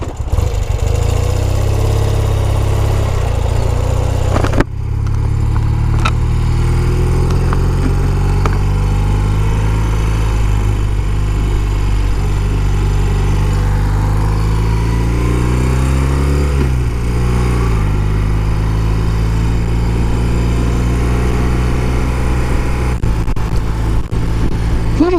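A restored 1971 BMW R60/5 boxer-twin motorcycle engine runs loud and close, a continuous low throbbing rumble that briefly rises and falls with throttle changes and a short blip early on.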